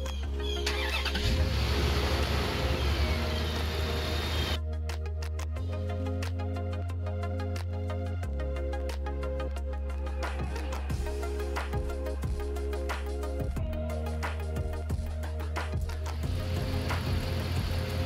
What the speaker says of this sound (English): start the engine and idle for about 10 minutes